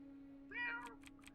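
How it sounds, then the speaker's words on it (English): A cat in a video game gives one short, clear meow, followed by three quick soft thumps or footsteps against a steady low hum. "There's the kitty, it's coming to steal our scraps."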